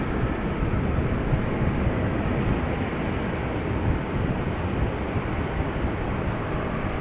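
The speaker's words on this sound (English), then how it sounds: "Turkish flight 1952 to Istanbul, the next airplane to take off from 18 left." A Turkish Airlines jet takes off from runway 18 left at Amsterdam Schiphol, heard as a constant, dense, far-off engine roar that holds steady throughout with no talk over it.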